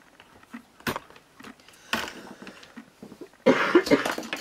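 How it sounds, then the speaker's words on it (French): A woman coughs several times in a quiet indoor room while doing scrapbooking, with sharp separate bursts and a louder, rougher cluster near the end. "c'est désagréable de tousser."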